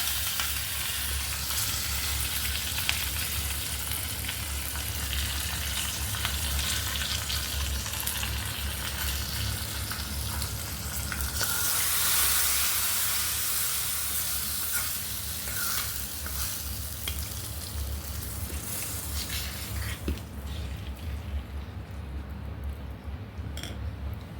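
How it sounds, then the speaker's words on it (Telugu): Mustard seeds, fenugreek and dried red chilies splutter in hot oil for a buttermilk kadhi tempering, a dense, steady crackling sizzle heard up close with no talking. "పోపు ఎర్రగా వేగిపోయింది, చిట్టుపట్లు ఆడుతున్నాయి మెంతులు, మిరపకాయలు, ఆవాలు అవిని"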